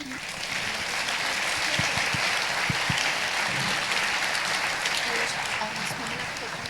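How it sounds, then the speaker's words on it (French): A crowd claps steadily for several seconds, dense and sustained applause with a few louder thumps underneath. "Vous pouvez les applaudir aussi."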